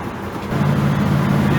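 A car cruising at part throttle, a low, steady engine drone with road noise that swells slightly after the first half-second and holds even, heard from inside the cabin.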